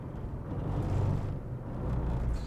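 A seven-year-old Tata Nexon drives over a rough road patch, giving a continuous low rumble of tyres and suspension that swells and eases, heard from inside the car with no talking.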